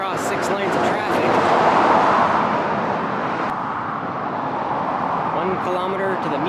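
Steady roar of road traffic on a six-lane coastal road along the Japanese coast, a broad continuous wash of passing cars heard at moderate distance beneath someone talking throughout.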